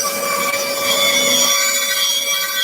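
Woodworking saw running steadily through wood while cutting parts for an Adirondack chair, a continuous buzzing, whining cut heard close and loud throughout with no talk.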